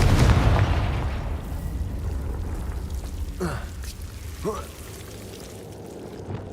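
Fiery Confringo spell blast in the Hogwarts Legacy video game, a loud booming explosion at the start that rumbles and fades, followed by a couple of fainter whooshing magical sounds.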